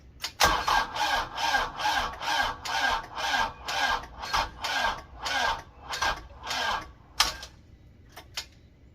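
An LS MT122 tractor cranks at -25°F with no block heater after glow plugs: about a dozen evenly spaced starter churns, loud and close, without catching, then a few scattered clunks once cranking stops.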